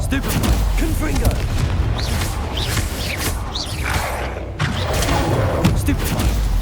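Repeated Confringo blasting-spell explosions in the video game Hogwarts Legacy, a run of booming thuds and whooshes over dense battle noise, with cast-spell shouts and character voices mixed through.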